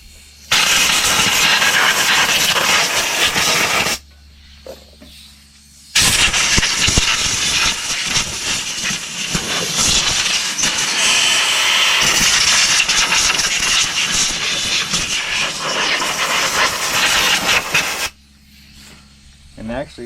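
Compressed air blasts into a Cub Cadet zero turn mower in two long, loud bursts of rushing hiss, separated by a brief pause and ending in near quiet.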